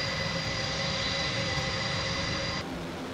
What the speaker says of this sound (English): An impressive example is the testing of their large transport plane, the Atlas A400M, with a wingspan of up to 45 meters.